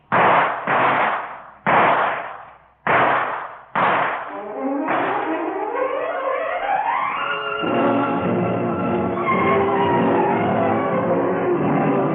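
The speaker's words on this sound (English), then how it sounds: "you remember nothing but the roar of guns" Gunfire in a 1955 Australian radio crime drama: five heavy, booming shots spaced about a second apart, followed by a long, loud sustained roar of continuous firing and crashing effects with rising tones, close and dominant.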